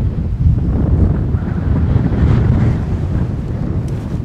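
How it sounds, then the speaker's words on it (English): Strong wind on a hilltop on the Appalachian Trail roars and buffets the microphone continuously, a heavy low rumble with gusts swelling and easing, no voices heard. "Incredibly windy."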